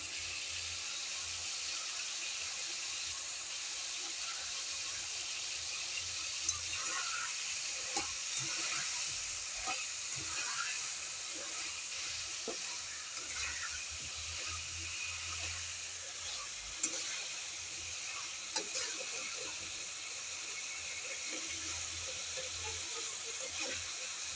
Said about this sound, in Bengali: ফুলকপিটা একটু ভালো করে ভেজে নেব